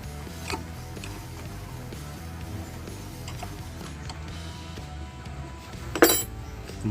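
Metal clicks and ratcheting of a wrench tightening a bolt on the CVT of a Honda Beat automatic scooter, faint mechanical clinks in a workshop with a sharper clank near the end.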